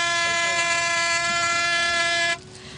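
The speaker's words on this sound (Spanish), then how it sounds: "Empezamos a escuchar las bocinas de los barcos." A loud, steady boat horn blasts continuously for a couple of seconds during a maritime procession in Llanes, Spain, then cuts off, leaving faint background noise.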